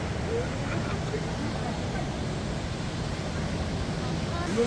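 Loud, steady rush of water at Sambuyeon Falls in Cheorwon, a broad continuous roar filling the whole stretch without pause, heard close by with no talking over it.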